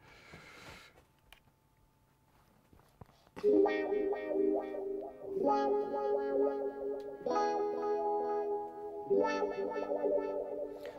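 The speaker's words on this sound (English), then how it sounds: "really vibey 70s licks, which we love" Electric guitar with heavy effects plays 70s-style chord licks in four rhythmic bursts after a quiet start, swirling and warbling, loud and close, no voices.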